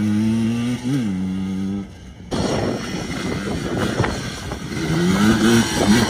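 Small two-stroke Yamaha Blaster ATV engine revving loudly while ridden, a steady buzzing drone with rising and falling pitch, briefly dropping off midway before roaring back up close to the listener.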